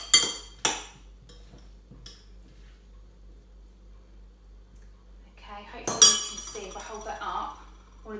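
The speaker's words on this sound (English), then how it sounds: "So what I'm going to do now is I'm just going to just give it a bit of a mix." Couscous salad being mixed in a bowl, with a few sharp clinks of a utensil against the bowl, then quiet, then a busier burst of scraping and clattering near the end, close by.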